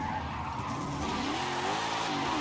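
A car in Forza Horizon 5 accelerates hard in third gear from low revs, engine drone building steadily with tire noise, loud and continuous with no talking.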